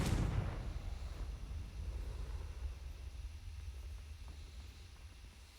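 A Confringo blasting spell in Hogwarts Legacy goes off with a single loud explosion that rolls into a long, low rumbling decay and fades under a steady faint hiss.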